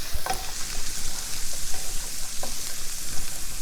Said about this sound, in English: I'm going to add some garlic right in there.